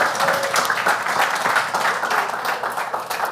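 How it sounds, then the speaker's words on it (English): An audience at a women's football event in Athens claps and applauds steadily for a few seconds, a dense, even patter of many hands with no let-up. "Round of applause, please."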